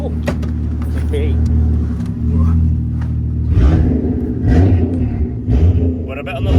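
A Toyota JZX car's engine drives around Ebisu circuit, a steady, loud low rumble that swells as the revs rise partway through, with indistinct voices in the cabin over it.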